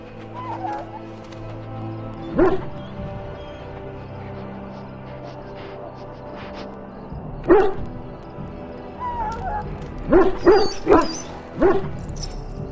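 A dog kept in a pen in Dragon Age: Origins gives several sharp barks and yips at intervals, amid a low ambient bed with bird-like chirps.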